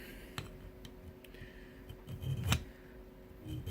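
A metal file cuts into a motor mount adapter with scattered scraping strokes, a few sharper rasps standing out over quiet background hum.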